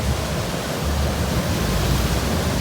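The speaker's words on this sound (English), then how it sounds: "I have decided to sit far away from the waves, but I could hear it roll like a lion" Ocean waves roll and wash onto the shore in a steady, loud broadband roar that fills the moment with no talking.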